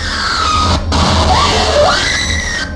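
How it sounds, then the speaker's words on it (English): A woman's shrill, wavering scream through a harsh, noisy, distorted recording, briefly cutting out before continuing. "In the background, scratchy screaming audio with no explanation."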